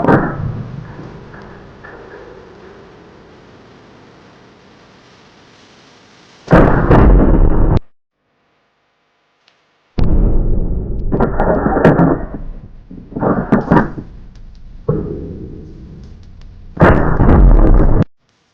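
Airsoft shotgun firing outdoors, several loud, abrupt blasts that each ring for a second or two, separated by quiet gaps, close and forceful with no talking over them.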